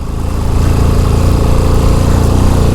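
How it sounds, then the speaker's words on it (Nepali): A motorcycle engine runs loud and close, climbing from a rising start into a steady hard-working drone while the bike rides uphill on an off-road track, with no voices over it. "बाइकले अलिअलि बेहोरा देखाउन खोजिरहेछ"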